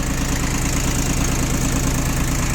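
A Yanmar YM1602D Japanese tractor's diesel engine idles continuously, loud and close, with a steady rumble, a low throbbing hum and no other sounds.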